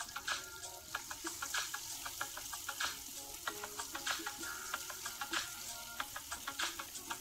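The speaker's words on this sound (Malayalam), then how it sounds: "ഇനി സെയിം ഓയിലിലോട്ട് 4-5 വെളുത്തുള്ളി ചീന്തിയിട്ട് ചേർത്ത് കൊടുക്കുകയാണ്." A few torn garlic cloves fry in reused oil for Kerala-style beef fry, a soft, quiet crackle with frequent sharp little pops and light stirring taps, close by and with no speech.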